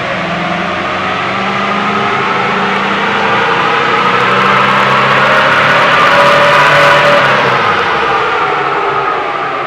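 A car engine held under load drones steadily as it is cranked up, swelling louder toward the middle before easing slightly, with no talking.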